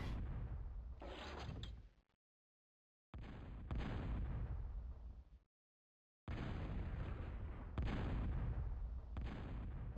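Cannon fire from a Total Annihilation battle, heavy booming blasts in three long stretches separated by brief silences, loud and dense with repeated impacts.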